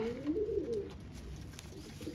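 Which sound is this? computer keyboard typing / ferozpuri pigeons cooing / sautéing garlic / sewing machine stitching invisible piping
ferozpuri pigeons cooing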